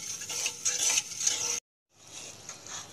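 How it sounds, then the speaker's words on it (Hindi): Sugar stirred continuously in a pan until it melts, for a semolina sweet: soft scraping and clinking of the spoon against the pan, broken by a brief moment of silence before the stirring resumes. "इसे आप लगातार चलाते रहें जब तक हमारी शुगर जो है वो मेल्ट ना हो जाए"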